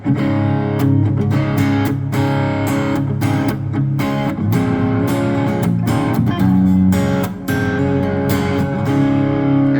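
A heavily distorted electric guitar through a two-channel high-gain distortion pedal plays dense, sustained chords continuously and loudly, with a thick saturated tone throughout.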